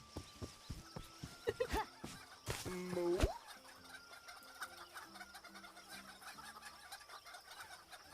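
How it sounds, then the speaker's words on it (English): Chickens cluck in a tavern management video game, a series of short close clucks and squawks over quiet game ambience, with soft clip-clop-like footsteps and a few scattered chime tones. "The chickens have decided to take their time"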